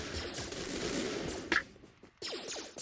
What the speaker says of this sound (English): I'm just going to shoot those guys up there and kill them